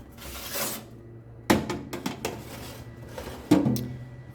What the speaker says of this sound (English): And take it and put it into the oven.